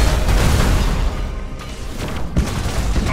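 Thunderhawk bombardment in Battlefleet Gothic 2 rolls out as loud, low booming explosions, one heavy blast fading into a steady rumble with further hits scattered on top.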